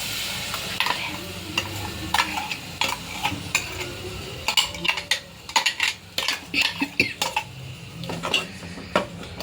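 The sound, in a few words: ground tomato puree being added and stirred in pan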